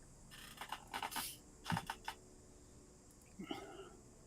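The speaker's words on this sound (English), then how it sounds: "can hear somebody rapidly typing around here" Quick bursts of keyboard typing, clicks clustered in rapid runs with short pauses, fairly close, over a quiet room with faint murmuring near the end.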